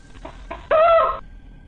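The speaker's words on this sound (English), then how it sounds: "chicken in that bag" A chicken clucks from inside a bag at an airport check-in: a few soft clucks, then a loud, sustained squawking cry near the end, fairly close and with no talking over it.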